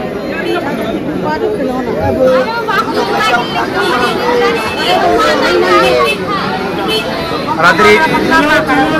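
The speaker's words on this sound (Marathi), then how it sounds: "हा गर्दी बघा मित्रांनो" Dense crowd of Shyam devotees at Khatu Shyam temple, a constant loud babble of many voices with shouts and chatter close by, while one person talks over it.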